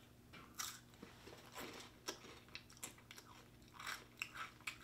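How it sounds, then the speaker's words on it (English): Someone bites and chews a crunchy Ukrainian chocolate-coated wafer cake with cream filling, giving close, sharp crunches in irregular bursts followed by quieter chewing, with no talking. "Great crunch, great chocolate coating, great chocolate cream filling."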